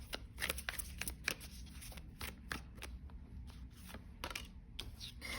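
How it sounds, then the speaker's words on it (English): Tarot cards are riffled and shuffled in quick bursts of crisp, papery flicks and taps, close up, with no talking. "I promise this is fully shuffled."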